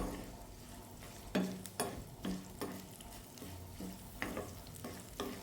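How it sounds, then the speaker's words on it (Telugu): Coconut chutney ingredients fry softly with curry leaves, a faint sizzle punctuated by repeated light clinks and scrapes of a spoon against the pan. "కొంచెం బాగా వేగనిచ్చి కొద్దిగా కరివేపాకు కూడా వేసాను ఇందులో"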